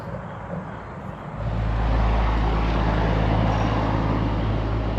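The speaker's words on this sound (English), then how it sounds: "There's going to be a million semis go by while we're out here." A heavy roadside rumble swells in after a quiet start and holds as semi trucks pass close by on the road, a broad low drone with steady engine and tire noise, loud and without talk.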